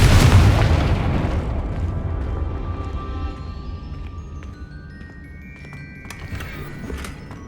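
A Confringo fire spell explosion in the video game Hogwarts Legacy: one loud, close boom at the start that decays into a long fading rumble, with scattered crackles and faint tonal game effects trailing after.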